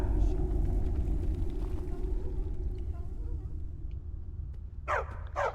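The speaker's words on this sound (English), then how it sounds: "Barbas, stop barking." A dog barks in Skyrim Anniversary Edition, with a few sharp barks near the end over a steady low rumbling game ambience; a voice talks faintly.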